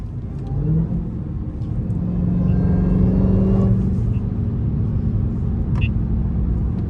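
Dodge Charger Hellcat engine rumbling on a night drive, a steady loud low drone that swells and holds as it accelerates, heard from inside the moving car with passengers talking over it.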